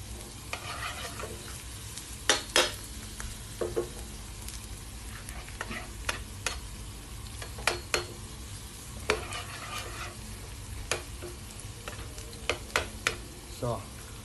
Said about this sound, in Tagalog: Sautein natin ang konti.